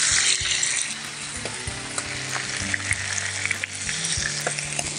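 A beef steak laid into a hot pan with olive oil sizzles and spits steadily, a dense crackling frying hiss with scattered pops and light clatter up close.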